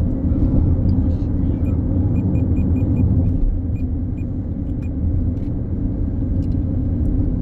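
Steady interior road noise of a car cruising along a highway in Israel, a continuous low rumble with faint rattles and small clicks on top, no clear speech.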